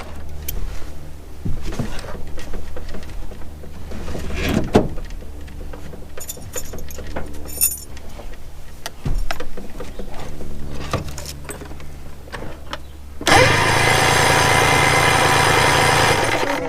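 A 1973 Johnson 65hp outboard motor idles with a steady low drone and scattered metallic taps and clicks nearby, then turns abruptly into a louder, broader roar for the last few seconds.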